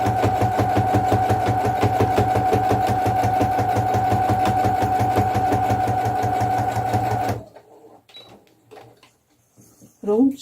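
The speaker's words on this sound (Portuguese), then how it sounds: "só vem fazendo uma costura retinha" Domestic sewing machine running a continuous straight seam along the hem fabric of a rag doll's pajamas, a loud, steady rapid stitching buzz for about seven seconds, then stopping abruptly, followed by quiet handling noises.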